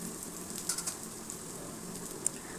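Onion and garlic fry in a pan for an egg tarka, a soft, steady sizzle with a few faint crackles and pops, quiet and close with no talking.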